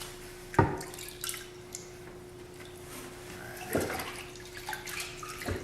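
Water trickles faintly and steadily over a knife and wet whetstone, broken by two sharper splashes, quiet and close, with a brief spoken word.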